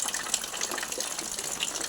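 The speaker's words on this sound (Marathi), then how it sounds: "हे बघा असं पाणी भरावं लागते आम्हाला." Rainwater collected into a container during rain, a steady splashing gush of water pouring and filling with no one speaking.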